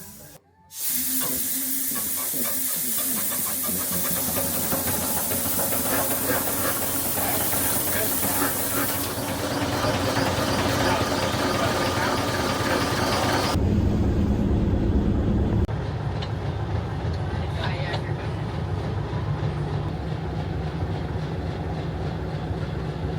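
Steam engine aboard a classic boat with its valve cracked open, giving a loud, steady broadband hiss that runs nearly the whole time and changes character partway through, with no one speaking.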